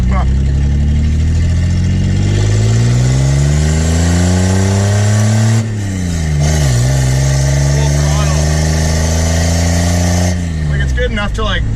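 A car engine drones loudly from inside the cabin while driving, its pitch climbing steadily through the gears with a brief dip at a shift, under sparse talk.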